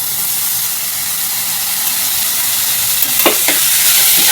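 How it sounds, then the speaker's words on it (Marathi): Finely chopped medium tomatoes frying with already-browned onion in a pan, a loud continuous sizzle and hiss with a couple of stirring scrapes toward the end. "कांद्याबरोबर टोमॅटोसुद्धा आपण भाजून घ्यायचा आहे"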